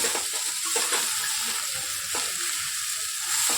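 Kochu (taro) and hilsa fish stirred in a hot pan, with a steady close sizzle of frying and occasional soft scrapes of the spatula, no talking.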